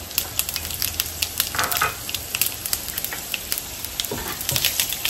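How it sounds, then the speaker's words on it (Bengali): Whole dried chillies and cumin seeds sizzle in hot oil, a constant close frying hiss scattered with sharp crackling pops throughout. "গরম হয়ে গেছে, দিয়ে দিচ্ছি গোটা শুকনো মরিচ"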